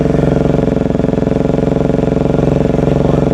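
A Bajaj Dominar 400 motorcycle engine holds steady at 2,500 RPM, a loud, close, even throbbing thrum with no break.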